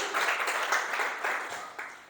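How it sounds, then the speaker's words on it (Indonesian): Church congregation clapping for God, a soft, fairly distant patter of hands with faint pulses over about two seconds. "Tepuk tangan untuk Tuhan kita"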